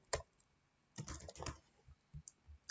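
Typing on a computer keyboard, a few close, quiet key taps in small bursts with short pauses between.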